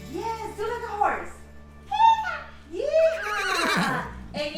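A child imitates a horse's neigh with several rising and falling whinny-like vocal cries, close and fairly loud, with brief pauses between them.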